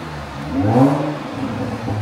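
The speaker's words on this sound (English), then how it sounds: "Somebody's testing out their new exhaust." Car engine with a newly fitted exhaust revs up in one rising, swelling burst and then settles into a steady rumble, heard outdoors from a short distance.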